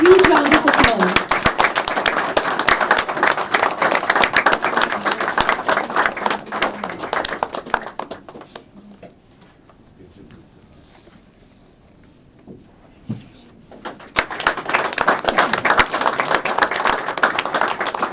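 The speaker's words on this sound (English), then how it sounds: "let us give her a huge round of applause" Audience applause at a memorial lecture: loud, dense clapping for several seconds, fading to near silence midway, then a second burst of clapping swelling back up near the end.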